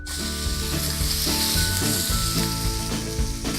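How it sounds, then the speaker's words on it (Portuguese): Steak sizzling loudly in a smoking-hot preheated frying pan, a dense continuous crackle and hiss heard close up and alone, with no voices. "E coloca o bife na frigideira previamente aquecida."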